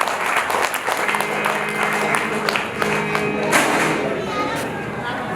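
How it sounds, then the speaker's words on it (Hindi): An audience claps steadily through a gathering at the Arya Samaj's 63rd annual celebration in Nai Ki Mandi, Agra, over a background of voices and sustained tones. "आप ताली बजाने का जब मौका पड़े बजाइए"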